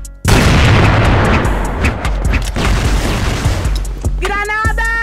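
A grenade blast in a video game, a sudden loud boom that hits at once and rumbles for several seconds, with gunfire and a voice breaking in near the end.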